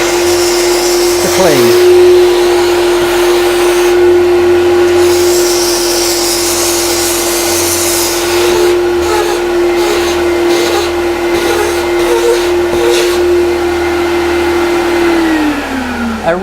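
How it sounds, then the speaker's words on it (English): An iVo Steam Tekna steam cleaner with its vacuum running hums steadily and loudly for most of the clip while cleaning grout with a small attachment. Hissing steam bursts come in and out, a voice speaks briefly, and the motor winds down at the end. "If we just turn the vacuum on with the button at the back here, and then we use the steam"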